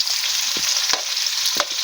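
Beef adobo frying in a pan as it is stirred, a loud continuous close sizzle broken by a few scraping utensil strokes.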